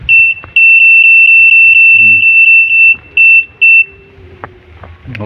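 A Suzuki APV's newly installed rear parking sensor beeps in a steady, loud run of short high-pitched pips. The beeps stop, then two more sound, with faint talk and clatter underneath.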